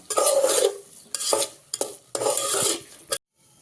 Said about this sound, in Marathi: आणि तेल सुटेपर्यंत आपण याला चांगलं भाजून घेऊया मसाला.